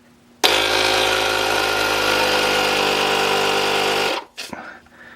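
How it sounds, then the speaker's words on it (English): A Ryobi P731 cordless inflator pumps air with a loud, steady mechanical buzz for about four seconds, then stops abruptly, followed by a few faint handling clicks. "Now when I flip this over, it'll start pumping."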